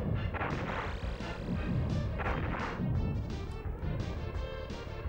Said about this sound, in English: I shot a bomb.